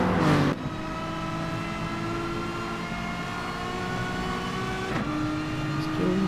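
A Lamborghini race car in a sim racing endurance event, its engine droning steadily with a sustained harmonic whine and a brief gear-change shift, heard under race commentary.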